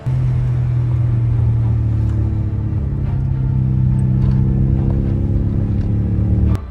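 Ford Escort car climbing the steep, winding Applecross Pass in Scotland, its engine a loud steady droning rumble from inside the cabin under strain, with faint rattles over the continuous hum.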